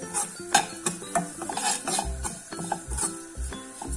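Dry oats are roasted in a kadhai with no oil and stirred, giving close, irregular scraping and clinking of a spoon against the metal pan along with soft knocks.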